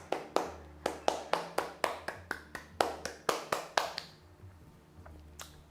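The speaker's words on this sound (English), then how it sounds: "clap your hands" About fifteen sharp hand claps in a steady rhythm from a participant in a live Kundalini yoga class, close and distinct, stopping before a short quiet stretch.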